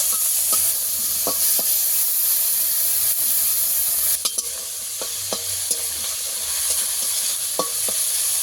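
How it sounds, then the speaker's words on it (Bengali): Prawns frying in hot oil in a kadai, a steady loud sizzle with a few sharp spatters and crackles scattered throughout, no voices. "চিংড়ি মাছগুলো আমি ভালো করে একটু লাল করে ভেজে নেব"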